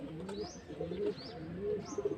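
A pigeon gives soft, low repeated coos with faint chirpy notes between them, quiet and fairly close in a calm setting.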